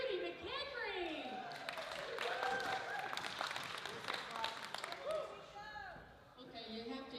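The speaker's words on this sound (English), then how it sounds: "Let's hear a big round of applause for Judy McHenry" A crowd at a meeting gives a round of applause as Judy McHenry, the Sergeant of Arms, is brought up, steady clapping mixed with cheers and voices over a few seconds.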